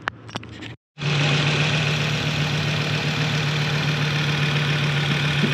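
An Audi 90 quattro 20v sport's engine starts after a brief pause and settles into a steady, close idle with an even hum and a low tonal drone.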